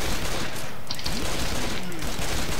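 Rapid gunshots from the Left 4 Dead 2 video game fill the clip in a constant loud barrage, with voices talking underneath.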